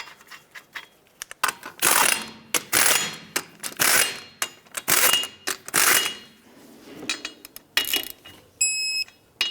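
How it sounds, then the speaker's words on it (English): Lug nuts on a Chevrolet HHR rear wheel are run down and tightened with a tool, giving a series of short metallic ratcheting bursts with small clicks in between, close and fairly loud. "Start on all 5 of your lug nuts, bottom them out, torque them to 100 foot-pounds."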